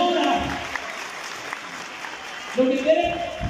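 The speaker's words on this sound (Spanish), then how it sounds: "El aplauso para Kaori." Audience applause at moderate volume, steady clapping from a crowd that fades slightly before voices return near the end.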